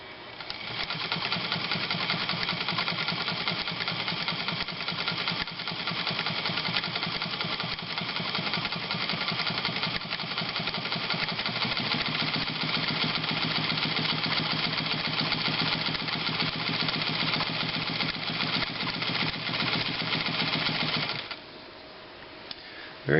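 A Montgomery Ward 21 Jewel Supreme automatic zig zag sewing machine runs a straight stitch along a fold, a steady fast close whir and clatter holding for about twenty seconds before stopping.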